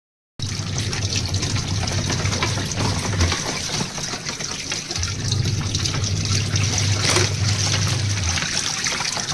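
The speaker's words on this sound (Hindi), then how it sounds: "जीन्स की पैंट जो थी ना वो धोके हो गई, निचोड़ रही साफ पानी में" Jeans are wrung out over clean water, and the water trickles and splashes steadily and close by, with a low droning hum underneath and no talk.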